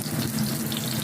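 Salmon sizzling in oil in a non-stick pan, a steady close hiss and crackle of frying with no gaps over about a second.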